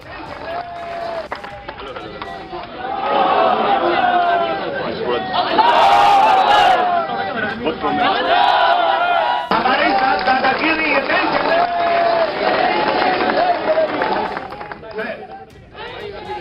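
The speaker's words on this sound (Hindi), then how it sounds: "नारे लग रहे थे अल्लाहू अकबर, नाराए तकबीर। इससे जंतर मंतर गूंज रहा था।" A large crowd protesting the Waqf bill at Jantar Mantar raises loud, sustained chanting and shouted slogans that swell and persist for most of the stretch, with a brief dip near the end.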